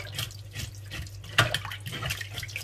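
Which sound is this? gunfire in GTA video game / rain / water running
water running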